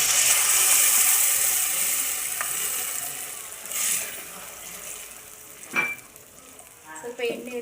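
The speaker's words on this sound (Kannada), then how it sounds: "ಸ್ವಲ್ಪ ಎಣ್ಣೆಯಲ್ಲಿ ಒಂದು 5 ಮಿನಿಟ್ಸ್ ಫ್ರೈ ಮಾಡಬೇಕು ಚೆನ್ನಾಗಿ." Ground masala paste fries in oil for a fish sambar, hissing and sizzling loudly at first and then settling lower, with scattered clinks and scrapes from stirring near the end.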